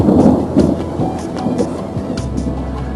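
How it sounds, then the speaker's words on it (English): Loud thunder rumbles during a storm atop a tall tower, deep rolling booms with a sharp crack near the start, heard alongside rain and wind with no talking. "that was some really nice thunder right there"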